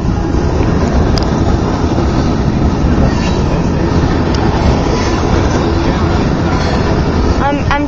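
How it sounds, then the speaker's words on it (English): A heavy Union Pacific coal train rumbles past close by at a railroad crossing, a dense, steady roar of wheels and cars with faint clatter throughout. "Oh, look at that. That is just the biggest train I ever had seen."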